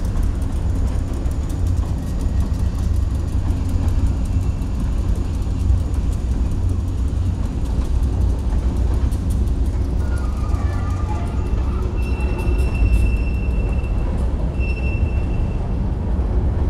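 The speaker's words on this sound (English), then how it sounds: "Train kind of came out of nowhere, man." A train rumbles past steadily and loudly throughout, with a heavy low roar and brief high metallic wheel squeals near the end.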